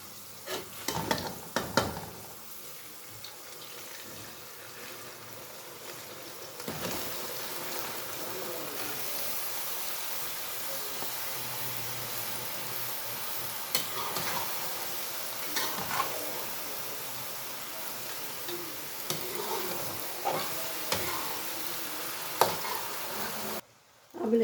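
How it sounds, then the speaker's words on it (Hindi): Rice tipped into hot oil for sweet carrot rice, with a steady close sizzle and frying hiss, broken by scrapes and clatters of stirring that run nearly throughout. "ये देखें ऑयल भी पकना शुरू हो गया। तो अब डाल देंगे चावल।"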